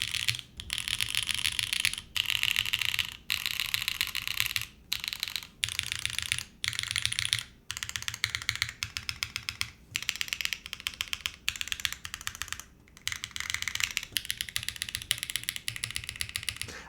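Fuji75 prototype mechanical keyboard switches being typed on in steady bursts of close, crisp clacks, broken by brief pauses, with no voices.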